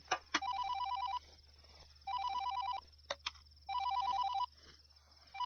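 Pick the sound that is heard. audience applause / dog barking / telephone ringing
telephone ringing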